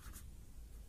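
A marker or chalk scrapes across a board in a class 12 chemistry lecture on chemical kinetics, giving a brief faint scratching stroke over a low room hum.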